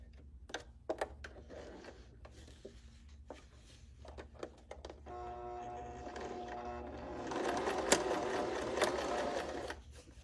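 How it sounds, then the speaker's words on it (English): A sewing machine sews a small opening, starting with scattered clicks and handling taps. A steady, close mechanical hum of stitching builds toward the end and grows louder. "I'm going to start sewing"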